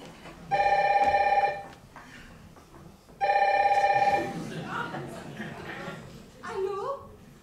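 An old-style telephone bell rings in two loud bursts of about a second each, separated by a pause, with a voice calling out between and after the rings in a stage play setting.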